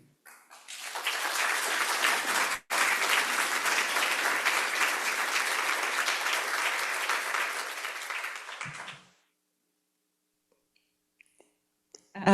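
Audience applause at a jewelry and metals symposium, a sustained wash of clapping lasting about eight seconds with one short dropout. It then cuts to near silence with a few faint clicks.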